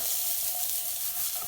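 Fennel sautés in hot oil in a pan, giving off a dense, even hiss of sizzling that holds steady and close throughout the brief moment.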